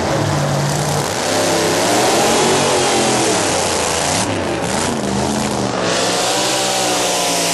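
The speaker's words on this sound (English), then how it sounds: "The 1987 Ford Taurus station wagon of Camp Stanley." A 1987 Ford Taurus station wagon engine revs at a drag race, its loud mid-pitched roar rising and falling steadily through the run, heard close with no talk over it.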